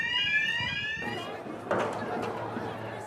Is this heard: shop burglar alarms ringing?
yes